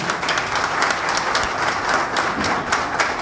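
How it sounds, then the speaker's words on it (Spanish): Audience applause at an evening political gathering in La Romana, a dense, steady burst of many hands clapping at close range, continuous for several seconds with no talk over it. "Aplauso para ustedes."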